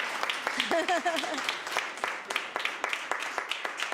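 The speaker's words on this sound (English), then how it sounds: "Can we also quickly give Aston a big clap?" An International Women's Day community gathering gives a quick round of applause, steady close clapping from a modest crowd with a voice calling out over it briefly.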